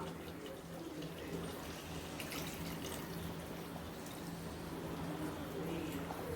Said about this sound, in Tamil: அந்த புளி தண்ணியை வந்து இப்போ சேர்த்துக்கலாம்